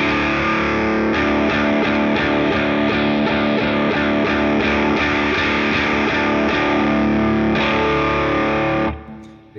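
Electric guitar played through a NUX Steel Singer Drive overdrive pedal while its filter knob is turned, a sustained distorted chord ringing loud and steady before cutting off near the end.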